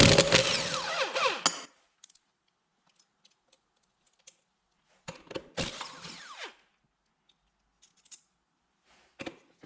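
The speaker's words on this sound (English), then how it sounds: "take the tire off real quick, and that's gonna be a 14 mil socket for the tires" Socket wrench with a 14mm socket loosening tire lug nuts on a Yamaha Raptor ATV, a couple of loud close bursts of ratcheting and metal clatter separated by quiet gaps with faint clicks.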